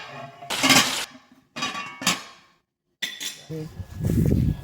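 Metal pot lid being handled and set onto a simmering pot in a home kitchen, several loud close clanks and scrapes in separate bursts with short gaps, ending in a rattling clatter.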